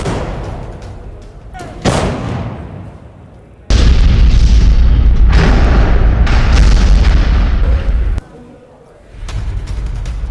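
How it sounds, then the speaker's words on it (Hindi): Russian artillery firing on Ukrainian positions, heavy booms with a long rumbling roar between quieter stretches, close and loud, with a voice talking over parts of it. "आर्टिलरी से यूक्रेनी सेना पर अटैक किया गया"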